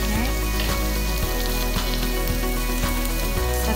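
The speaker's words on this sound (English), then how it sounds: "Okay, just slow sauteing them." Vegetables slow-sauteing in a pan give a steady, loud sizzle and crackle, with faint scraping taps now and then and no one talking.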